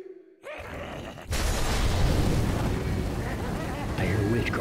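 A thrown Molotov bursts into flame in Left 4 Dead 2 with a sudden loud whoosh, followed by a sustained roaring crackle of fire that fills the rest of the moment, with a voice heard faintly.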